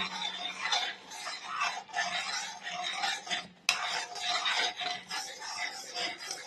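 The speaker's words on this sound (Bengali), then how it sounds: "ভালো করে নেড়ে নিচ্ছি, না নাড়লে পরে লেগে যাবে।" A spoon stirs kheer being reduced in a pot, a steady scraping and clinking that continues without pause, with a soft sizzle underneath. It stays close and moderately loud, and no one speaks.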